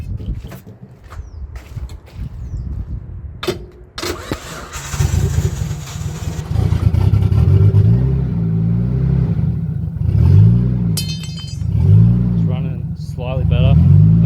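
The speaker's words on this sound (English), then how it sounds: "Gotta hit the starter." A Nissan R33 Skyline engine with a newly installed Walbro 255 fuel pump cranks with rapid chugging, then catches and runs, rising and falling in revs, not idling smoothly; someone talks over it briefly.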